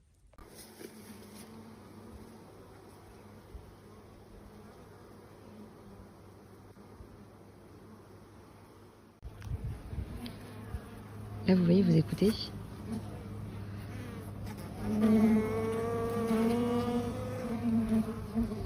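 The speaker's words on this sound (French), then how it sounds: "C'est des abeilles qui sont très très douces. Elles sont occupées" Honeybees buzz in a steady, busy hum from an open hive, growing louder and closer partway through, while a person talks briefly over them.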